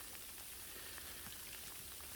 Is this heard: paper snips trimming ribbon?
no